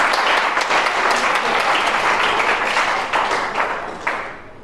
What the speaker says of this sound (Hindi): सभी लोगों को ताली तो बजनी चाहिए।